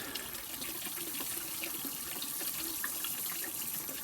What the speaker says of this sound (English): good nice watering in here